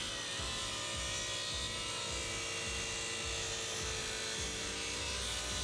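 A saw rips a wooden board about four inches wide in a woodworking shop, a steady whining drone with a faint rhythmic low pulsing that runs unbroken throughout.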